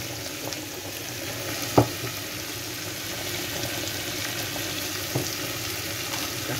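Pasta sauce with shrimp, broccoli and cream sizzles steadily in a pan while being stirred, with a sharp utensil knock near the start and a softer one later.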